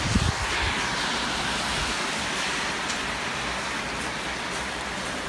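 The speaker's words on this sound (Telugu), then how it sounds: "చాలా విపరీతంగా, చాలా జోరుగా వర్షం కురుస్తుంది." Heavy evening rain pours down in Nazareth amid strong wind, a dense, even hiss that stays constant throughout after a brief louder burst at the very start.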